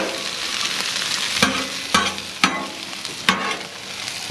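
Vegetable stir-fry sizzles and crackles steadily on a Blackstone flat-top griddle, with sharp metallic scrapes and clanks from spatulas breaking in every half second or so, close and fairly loud with no talking.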